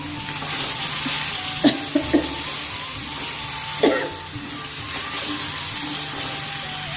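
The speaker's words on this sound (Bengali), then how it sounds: "তো মাছটা ভাজা হইতে থাক।" Shol fish frying in a hot wok, a constant broad sizzle with a few sharp clinks and scrapes, close by and fairly loud.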